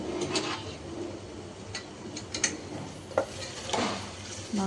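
A spoon stirs and scrapes through curry in a pan after coconut paste is added, giving soft close scraping and a few light clinks over a low sizzle, with no talking.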